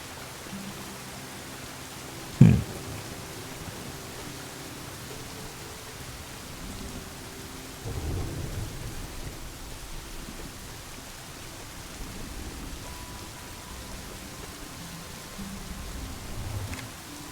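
Rain in the survival video game Smalland: Survive the Wilds, a soft, steady patter with a sharp knock near the start and a few swelling low rumbles later on, moderately quiet and with no speech over it.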